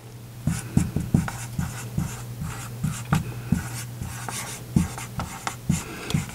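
A marker or chalk writes on a board during a lesson on air pressure and isobars. Irregular short strokes and taps sound close by, and a low steady hum runs underneath.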